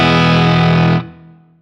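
Heavily distorted electric guitar played through two Fractal amp models blended together, a loud sustained chord ringing for about a second before being choked off into a short fading tail.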